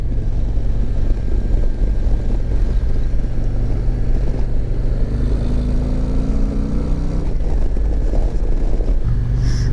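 2022 ST bagger motorcycles race around a track, a loud continuous engine roar heard from onboard with rising and falling pitch as the rider shifts through gears.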